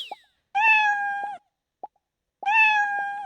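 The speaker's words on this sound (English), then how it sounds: "We can hear our cat say mew, and everything is just fine." Cartoon cat meows from the Scratch programming tool's sound library sound twice, bright tonal mews separated by a short pop, each about a second long and clear against silence.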